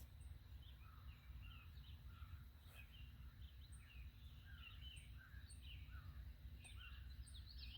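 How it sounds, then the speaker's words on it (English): Small birds chirp and sing outdoors at a recreation center, scattered short calls at a moderate distance over a low steady background rumble, with no talking. "Do you hear the birds?"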